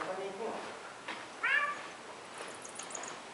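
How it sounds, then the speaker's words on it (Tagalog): A single short cat meow stands out over a faint, steady background hiss, with murmured talk and distant noise around it, at Juda's Cave in Hofuf, Saudi Arabia. "May pusa pa."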